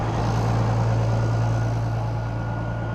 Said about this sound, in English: Now, something you may notice, the tractor is idling very high there.